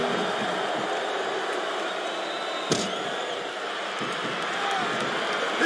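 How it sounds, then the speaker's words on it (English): Arena crowd noise from a capacity audience in the wrestling video game WWE SmackDown! vs. RAW 2007, a dense, steady roar sustained throughout with one brief sharp hit partway through. "Wow, listen to that chant, Taz."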